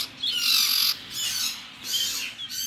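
A single young cipau bird gives two or three short, bright, close calls separated by brief pauses, with no other sounds around it.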